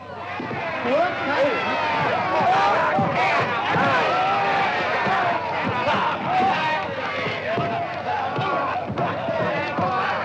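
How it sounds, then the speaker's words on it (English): A crowd yells and shouts continuously around a fistfight in a 1954 western, a loud, dense roar of overlapping voices with thumps and scuffles mixed in. "Ain't they yelling?"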